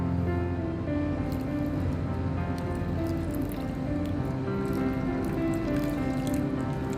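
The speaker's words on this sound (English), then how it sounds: "Very gently put the boiling water" Boiling water is poured gently over eggless self-saucing pudding batter, a soft, low, steady trickle with faint drips and squishy liquid sounds that continue quietly throughout.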